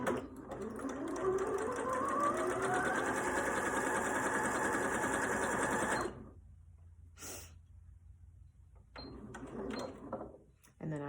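An Elna Experience 560 sewing machine, started with its start-stop button, stitches steadily for about six seconds with a loud, even whirring hum that then stops abruptly, followed by near silence, a brief click and some faint handling noise.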